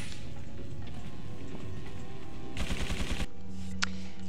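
A rapid burst of gunfire crackles briefly amid busy background noise in Resident Evil 4, followed by a single sharp shot.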